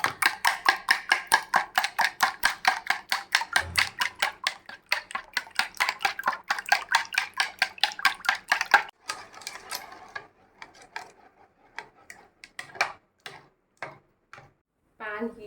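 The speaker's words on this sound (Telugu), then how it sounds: "మళ్ళీ మిక్స్ చేసుకుందాం" Milk being whisked into French toast batter in a bowl, a fast steady run of sharp ticking strokes against the dish that slows and turns sparse and uneven toward the end, close and clear with no talk.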